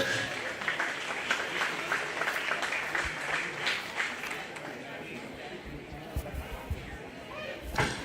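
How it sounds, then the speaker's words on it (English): An audience applauds at a county fair livestock award ceremony, with many hands clapping in a moderate, uneven burst that fades toward the end, followed by a few thumps and some background talk. "Another big round of applause for all of our Pen of 3 kids."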